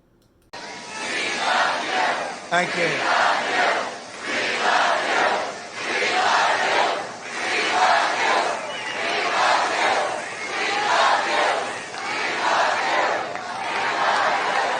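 A large rally crowd chants and cheers in loud, rhythmic surging waves that rise and fall steadily, with a brief spoken voice near the start.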